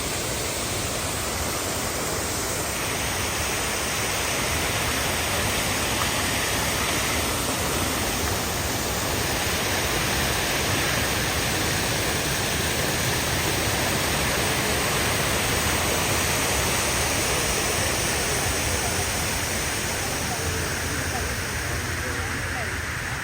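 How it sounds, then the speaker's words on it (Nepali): Steady, loud rushing roar of a waterfall at the Sharjah Hanging Garden, a broad continuous wash of falling water filling the whole stretch without pause, with faint voices in the background. "दामी झरना छ"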